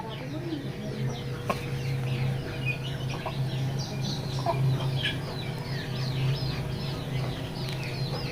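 A rooster clucks in short, repeated calls over a steady background hum, fairly faint and distant-sounding, with occasional sharper notes scattered through.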